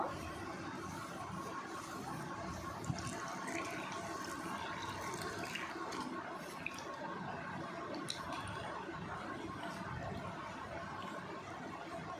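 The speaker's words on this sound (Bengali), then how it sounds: "তো আমি আবারও একটু জল দিচ্ছি, খুব মোটা হবে না, একটু পাতলা হবে" Water is added a little at a time to a mixture being thinned into a batter, a quiet, steady liquid wash and trickle with occasional small clicks, no speech.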